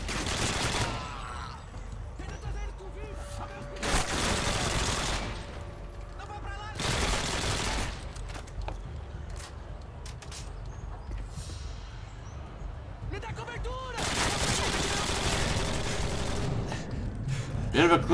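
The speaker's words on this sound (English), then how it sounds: "There's plenty of gunfire over there." Call of Duty: Modern Warfare 2 gunfire, including an AK rifle, in repeated rapid bursts, several loud volleys separated by short quieter gaps.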